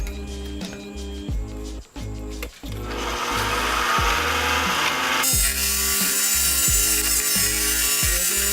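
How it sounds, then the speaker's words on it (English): A 3D-printed motorcycle frame slider spinning on a lathe while being sanded with sandpaper, a steady rhythmic rasping rub over a repeating mechanical thump, with no talk. "I tried cleaning up the surface with some sandpaper"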